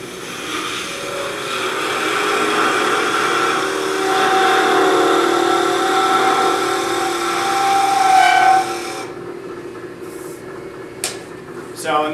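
A skew chisel cuts a candlestick on a wood lathe with a steady, fairly loud whirring, shaving hiss for about nine seconds, then it drops away to quieter room sound with a few light knocks.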